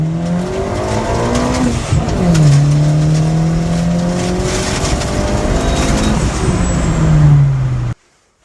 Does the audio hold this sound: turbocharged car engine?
yes